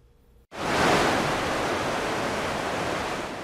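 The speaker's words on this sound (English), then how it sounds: "from the rush of the Kettle River to the gentle waterfall of Wolf Creek" The Kettle River rushing and a waterfall in Banning State Park, a loud broadband roar of water that cuts in abruptly and holds steady, close and constant with no voices.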